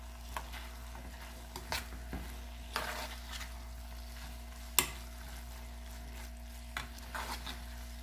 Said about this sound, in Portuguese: Agora misturando tudinho aqui